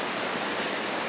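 A creek rushes along a forest trail near Moulton Falls, a steady broadband hiss of flowing water that stays close and constant, with no voices over it.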